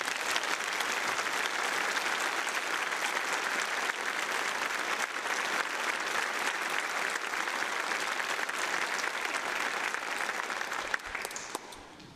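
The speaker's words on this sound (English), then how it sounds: "join me in another round of applause for Captain James." Sustained applause from an audience at a naval command change ceremony in Orlando, a steady dense clapping that holds for several seconds and then thins toward the end.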